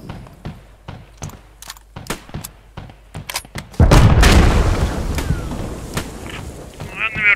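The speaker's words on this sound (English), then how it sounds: "Enemy artillery incoming." Heavy artillery blasts in a WWII-style multiplayer shooter game, a run of sharp thudding impacts followed by a loud, sustained rumbling explosion that dominates the scene.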